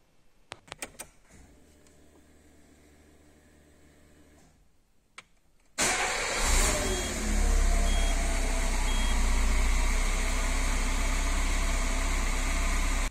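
Peugeot car engine idling steadily and loudly after starting, a continuous broadband rumble following a few faint clicks and a quiet stretch, with a capacitor disconnected during a random-stalling fault test.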